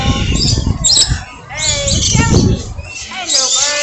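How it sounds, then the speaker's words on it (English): A small bird at Busch Gardens on a windy day, chirping and squawking in repeated bursts, close and fairly loud over steady wind and background noise. "Hey, little birdie."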